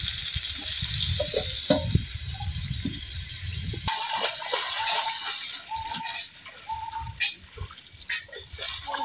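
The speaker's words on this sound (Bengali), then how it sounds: "ভাজা আলুগুলো দিতেছি, একটু সিদ্ধ হইব।" Fried potatoes drop into a simmering chicken curry in a village kitchen, with a watery sizzle and bubbling, then softer stirring and scattered clinks as birds chirp in the background.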